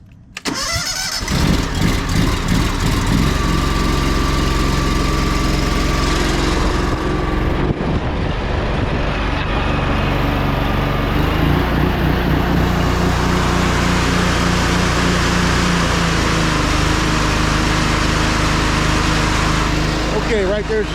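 A 10-gallon-per-minute pressure washer engine cranks, catches and settles into a loud, steady, close drone at three-quarter speed, running continuously with a slight shift in pitch partway through.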